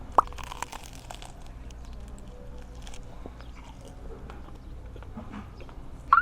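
Crisp crunching bites into a crusty baguette, with a few sharp cracks and quieter chewing in between, close to the ear.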